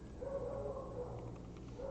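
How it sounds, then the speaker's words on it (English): Guard dogs at a house bark and yip in thin, muffled bursts that sound distant and faint, as if carried over a phone line. "Dog, you hear my guard dogs?"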